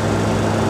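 Diesel engine of a Tata 407 SFC BS4 pickup revving under full accelerator, a steady loud drone with a strong low hum and constant roar throughout, no pauses or speech.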